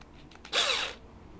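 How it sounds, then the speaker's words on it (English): A power drill spins briefly to coil wire for maille armour, giving one short trigger tap of whirring motor noise that lasts about half a second, heard up close after faint handling sounds. "tap the trigger on the drill"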